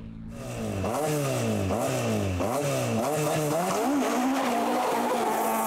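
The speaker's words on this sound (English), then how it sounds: "led the two-wheel drive section with Damien Fleming navigating in the Mark II Escort" Mark II Ford Escort rally car on a forest stage in Donegal, engine revving hard through repeated gear changes with some tyre noise, loud and passing close by.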